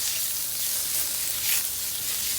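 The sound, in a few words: shiitake mushrooms frying in pan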